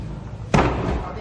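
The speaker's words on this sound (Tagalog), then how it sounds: "kaya gumamit sila ng battering ram." A battering ram hits a locked house door during an authorities' raid, one sharp heavy bang followed by a brief rumbling decay.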